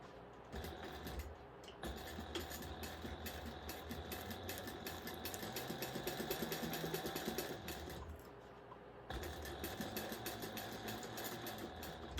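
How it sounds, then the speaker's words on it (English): A sewing machine runs steadily while stitching together the fabric pieces of a bag at a quarter-inch seam, its motor whirring with a continuous mechanical hum and rapid needle chatter, pausing briefly twice before resuming. "we're going to sew that together at 1/4 inch seam allowance"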